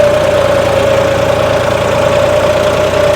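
A John Deere 5210 tractor engine labours under load close to stalling, a loud steady drone with a strong sustained tone and rough low vibration throughout, no voices.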